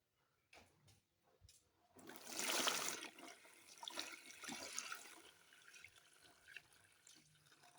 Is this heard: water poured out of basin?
yes